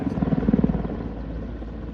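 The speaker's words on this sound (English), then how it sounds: "there's the Mi-35, an export version of the Mi-24V, turning away first" An Mi-35 Hind helicopter, an export Mi-24V, flies at the Duxford Battle of Britain airshow: a deep, pulsing rotor thump beats rapidly and strongly at first, then smooths into a steady low drone as it turns away.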